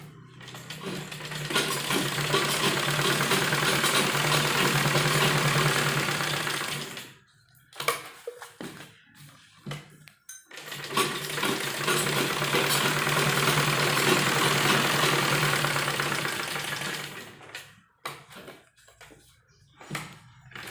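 An electric sewing machine runs in two long stitching bursts while sewing a seam around a kurti neckline. Each burst is a steady, fast mechanical whir, and a short quiet pause with a few light clicks and handling noises separates them.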